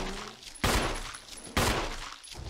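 Two heavy shotgun blasts ring out in the Resident Evil video game, each a sharp loud boom trailing into a short decay, spaced about a second apart with a fainter rattle just after.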